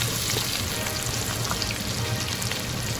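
Ginger and lemongrass sizzle steadily in hot oil, frying until golden for a sweet and sour sea bass dish; a dense, even crackle close up, with no talking.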